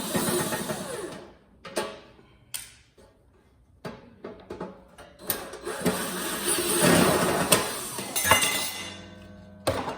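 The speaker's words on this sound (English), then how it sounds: "this nice piece of metal just falls off" A metal panel drops away from a Breville toaster oven being taken apart, making scattered close metallic clinks and clatters, with sparse knocks early on and a denser, louder rattling stretch toward the end.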